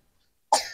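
A single short, close cough, a sharp burst followed by a second smaller hack, after near silence.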